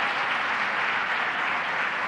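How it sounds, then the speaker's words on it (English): A room full of people applauding at a child care announcement event, dense even clapping at a steady level with no gaps. "Let's give a round of applause to Helen."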